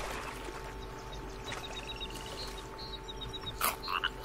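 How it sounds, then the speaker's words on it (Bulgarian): Frogs croak in a darkening forest in The Forest game, a repeated series of short pulsing calls over steady ambient hum, moderately faint, with a louder burst toward the end. "Жаби, чувам жаби."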